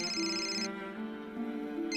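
An electronic telephone ringtone chirps in repeating tones, fairly quiet and close, with a brief pause before it starts again.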